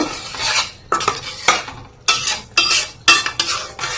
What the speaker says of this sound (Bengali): ঘি দিয়ে আবারও ভালোভাবে নেড়ে ছেড়ে নিয়ে নেব